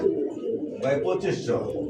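An orange original chila pigeon at a pigeon sale coos in soft, low, rolling calls close by, with people talking over it.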